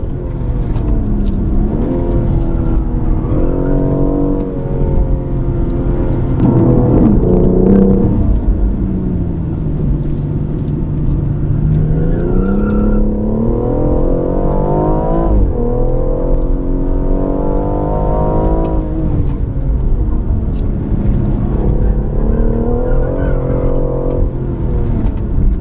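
A BMW i8 accelerating around a coned test track, its engine revving up and down through repeated rising and falling pitch sweeps, loud and close with a continuous rumbling drone and no talking.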